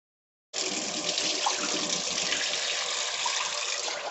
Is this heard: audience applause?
no